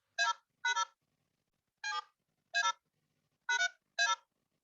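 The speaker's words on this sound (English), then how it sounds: "this sound is multi-frequency that you use in your mobile" Multi-frequency pulse tones encode a message, much like mobile phone dialing. Six short, clean beeps in uneven pairs and singles ring out against total silence.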